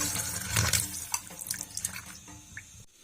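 Water pours and gurgles into a pot close by while cooking aloo methi, a splashy stream that tapers into a few drips before stopping abruptly.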